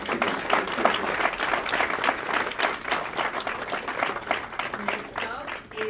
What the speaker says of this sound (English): let's welcome and cheer the editors of the